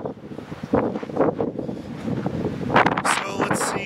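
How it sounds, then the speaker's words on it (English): Strong outdoor wind buffets the microphone in broad, surging gusts that swell louder toward the end, with a brief word of speech near the start. "So that's what it's like when the wind kicks up out here."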